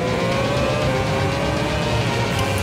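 Red Bull Formula 1 race car braking hard for a second-gear right-hander at the Singapore street circuit, a loud, steady engine roar running the full length without a break, with no talking over it.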